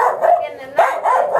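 A small dog barks in short yips close by, mixed with people greeting each other in Spanish on a visit to a rural home in the sierra.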